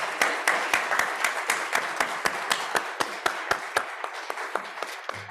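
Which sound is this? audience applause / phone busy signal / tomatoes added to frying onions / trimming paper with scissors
audience applause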